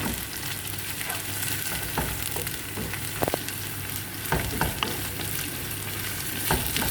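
Garlic and ginger-cumin spice paste fries for a chicken curry with chickpeas, a steady close sizzle and hiss broken by soft scrapes and taps of stirring, with no talking.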